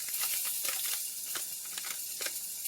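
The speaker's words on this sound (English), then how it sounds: "We're going to add our vegetable fried rice and we're just going to heat it up." Vegetable fried rice heats in a small pan with a steady, soft sizzling hiss dotted with faint crackles and pops, no voices.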